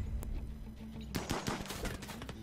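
RimWorld battle gunfire, including a bolt-action rifle, with a sharp early shot and then a dense run of overlapping reports and rattling bursts over a steady low game hum, no speech.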